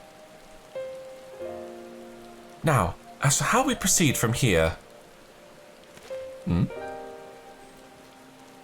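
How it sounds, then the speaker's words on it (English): Rain falls during a cutscene in the video game Final Fantasy XIV, a soft steady patter heard under music and spoken dialogue from characters. "now we get to watch this cutscene happen in the rain"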